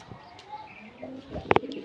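A grizzle racer pigeon coos softly and close by, a few low murmuring calls with two sharper bursts near the end over a quiet background.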